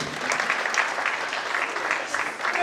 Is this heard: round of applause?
yes